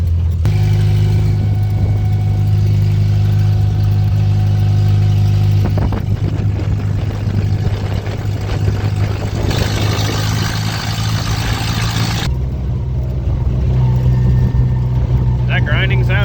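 A 1956 Willys Jeep CJ5 engine drones loudly and steadily while driving, its pitch dropping and changing through downshifts with a grinding edge, under a continuous rumble.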